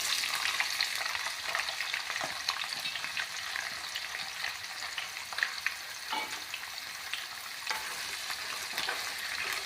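Onions frying in oil along with badiyan (sun-dried lentil dumplings) in a pan, giving a dense, continuous crackling sizzle up close with intermittent stirring scrapes and no speech.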